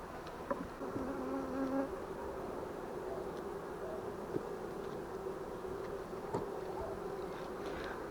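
A steady, close drone of many honeybees buzzing together at a hive, with individual bees whining past over the constant hum.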